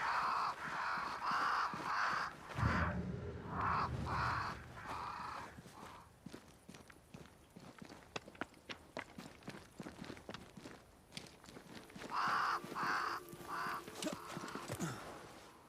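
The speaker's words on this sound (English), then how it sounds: "crows. They flock to that great tree up there." Several crows caw in bursts of harsh, repeated calls at the start and again near the end of a scene in the game Banishers: Ghosts of New Eden, with footsteps crunching steadily in between.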